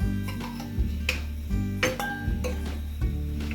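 A metal kadhai being handled, with clinks and taps of metal and utensils against the pan as oil is added for a matar and tomato sabzi. Steady low hum underneath.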